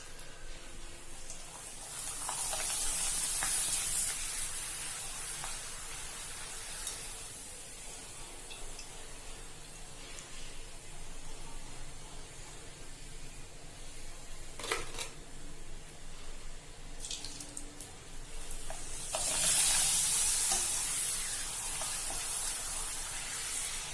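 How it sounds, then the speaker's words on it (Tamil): Steady sizzling and crackling of papadum frying in hot oil, with a couple of louder hissing surges, continuous throughout. "பப்படம் பொரிக்கிறதுக்கு எண்ணெய் ஊத்தி வச்சிருக்கேன்."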